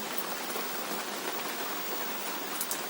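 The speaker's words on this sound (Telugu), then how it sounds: "ఇప్పుడు మళ్ళీ స్టార్ట్ అయింది కొంచెం పెద్దగానే పడుతుంది" Heavy rain pours down steadily, a dense continuous hiss of drops striking surfaces close by, with no voices over it.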